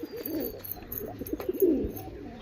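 A pair of red-headed pigeons, male and female, coos softly nearby, with low throaty calls rising toward the end over faint background noise.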